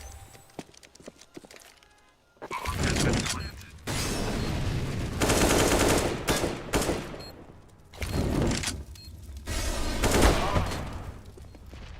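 Gunfire from a Counter-Strike esports match on the map Train, with dense bursts of rapid shots and sharp cracks arriving in loud waves, one after another, set apart by brief quieter gaps.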